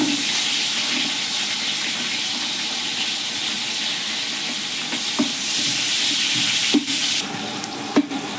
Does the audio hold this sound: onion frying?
yes